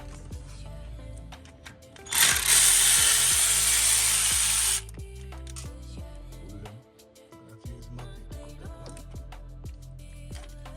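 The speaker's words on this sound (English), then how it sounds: "Let's go in there with the 10 socket." Power driver spinning a 10 mm socket on ignition coil bolts of a Toyota Tundra engine during an oil leak repair: one loud whirring burst of about two and a half seconds amid clinks and shop noise.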